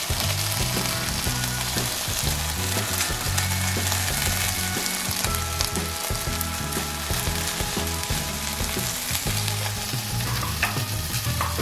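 Chicken for ayam bakar sizzles loudly and continuously as it grills, a dense close crackle with steady low thumping underneath.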